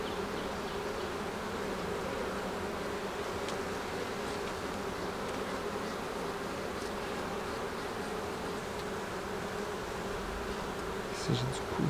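Honeybees swarming around an opened hive in a Quebec apiary, making a dense, continuous close-up buzzing drone that holds steady throughout, with a few individual bees passing nearby near the end.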